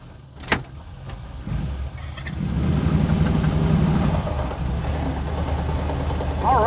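A 1941 classic car, warmed up with the choke in, running its engine while driving, a steady loud chugging rumble that swells after a sharp knock near the start and carries on continuously, close up, with no talking.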